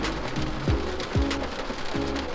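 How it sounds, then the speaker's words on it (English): Rain falling steadily on and around a parked 2021 Audi RS 5 Sportback, a dense continuous patter heard from inside the car, with a few deeper intermittent thumps under the hiss. "let's wait for this rain to stop"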